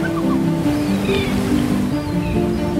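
Ocean waves surge and crash in a steady wash, heard beneath soft sustained music tones.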